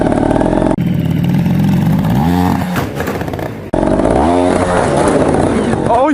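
A motorbike engine revs loudly in a video game, rising and falling in pitch through several throttle blips, with a brief cut in the sound partway through and a voice talking over it.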